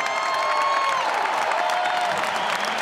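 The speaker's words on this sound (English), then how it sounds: "give a big round of applause for my other finalist" A large arena crowd at the GLORY Heavyweight Grand Prix 2024 kickboxing event applauds and cheers for fighter Levi Rigters, a steady, dense roar of clapping that holds evenly throughout with a thin tonal whine riding above it.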